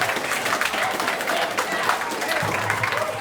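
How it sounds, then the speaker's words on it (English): Audience at a poetry jam applauding steadily, a dense wash of many hands clapping with some crowd voices mixed in throughout. "please give yourself some applause"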